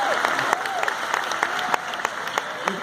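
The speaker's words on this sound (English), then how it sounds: "Can we get a round of applause for the translator?" Comic con panel audience applauding the translator, a sustained crowd clapping with a few sharper individual claps standing out near the front.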